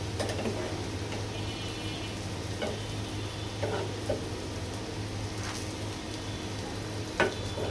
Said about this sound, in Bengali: এই চুলায় আমার করলাটা একদম মচমচা করে ভাজা